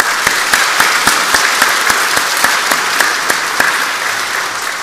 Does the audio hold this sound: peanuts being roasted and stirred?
no